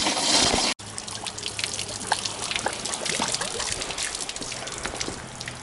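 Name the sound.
water flushing through 1993 GMC Sonoma truck cooling system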